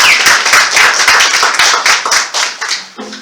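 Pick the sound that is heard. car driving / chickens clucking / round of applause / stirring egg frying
round of applause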